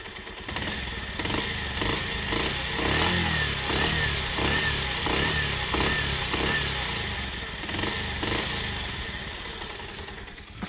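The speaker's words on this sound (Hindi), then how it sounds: "तो ये थी बाइक की आवाज़।" A Bajaj Pulsar 125 motorcycle engine recorded close to the engine, running with rhythmic revs rising and falling, a steady throaty drone throughout.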